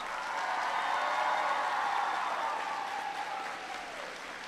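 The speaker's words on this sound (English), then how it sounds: "Students, clap for your teachers." Students in a school audience applaud their teachers with steady, dense clapping that swells and then slowly fades over several seconds, a crowd murmur blended in.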